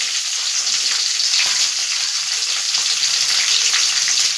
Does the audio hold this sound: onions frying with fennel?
yes